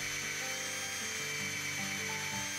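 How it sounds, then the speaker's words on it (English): Power drill boring into the top of a wooden IKEA bed post, a steady whining motor with shifting pitch running throughout, close and loud with no talk. "you want to drill down about 1/2 inch into the top of each bed post"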